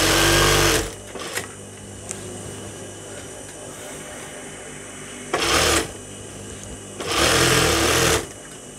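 A sewing machine stitches a petticoat in three short runs, one brief burst at the start and two later ones, with quieter pauses between them, heard up close.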